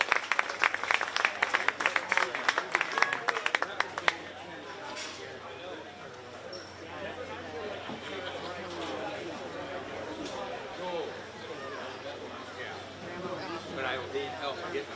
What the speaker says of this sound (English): especially Olivia and Cheyenne, a nice big round of applause.